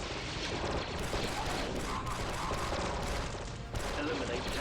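Gunfire in the video game Star Wars Republic Commando: a dense, continuous barrage of blaster shots with explosions mixed in, loud and sustained throughout with a brief dip near the end.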